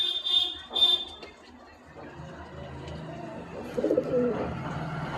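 Pigeons coo in a cage, giving soft, low, throaty calls near the end. Some sharp chirps and handling noises come earlier, and a faint voice speaks in the background.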